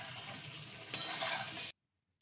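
Potatoes sautéing with spices and chilli powder in a pan for a Bengali fish curry: a steady, close sizzle and frying hiss with a brief stir, then a short silence before the sizzle resumes.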